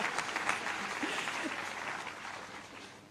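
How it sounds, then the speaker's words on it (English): A graduation ceremony audience claps in sustained, dense applause that swells at first and then slowly fades over a few seconds. "So let's give yourselves a round of applause."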